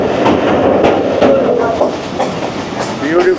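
A passenger train on a Pakistani line nears a metro station at speed, its wheels clattering on the rails with a steady rumble and rhythmic clicks throughout.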